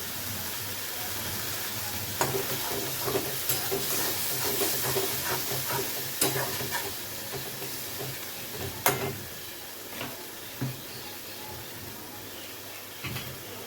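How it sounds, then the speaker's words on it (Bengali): Chopped ridge gourd is sautéed in a pan with small splashes of water for a Bengali fish curry, giving a steady hiss and sizzle broken by scattered clicks and scrapes of stirring. "অল্প অল্প করে জল দিয়ে দিয়ে এটাকে একটু কষিয়ে নেব।"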